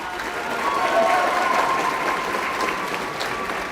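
Steady audience applause at a school awards evening, loud and sustained with a dense wash of clapping and a few faint voices or whistles in the crowd.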